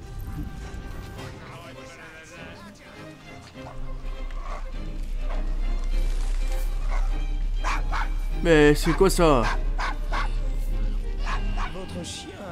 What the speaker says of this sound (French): Votre chien a l'air fâché.